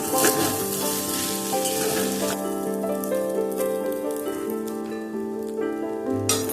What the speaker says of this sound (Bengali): লেবুর রসটা ভালোভাবে মিশিয়ে নিয়ে এবার পরিবেশন করব।